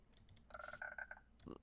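A frog croaking in Minecraft, a brief faint burst of a few quick pulsing croaks followed by a short lower croak.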